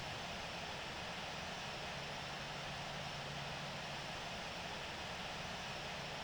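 An airliner's jet engines roar at takeoff power in the Infinite Flight simulator, a steady, unbroken broadband rush, faint and even throughout, with no voices.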